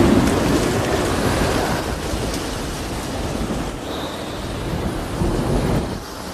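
A film's sea storm after a plane crash: a dense, roaring wash of wind, heavy surf and rumbling thunder, loud and continuous with no voices.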